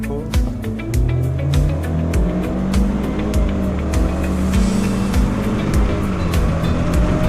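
A 2021 Chevy Spark with a CVT under heavy acceleration, its engine droning loudly up close with a rising, strained tone and rhythmic thumps from the road throughout.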